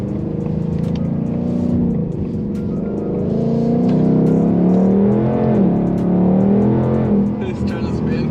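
Interior cabin sound of a 2021 Mustang GT with the 5.0 V8 and 10-speed automatic pulling hard, a loud, steady engine roar with rising and falling pitch while the tires struggle for grip. Speech occurs alongside.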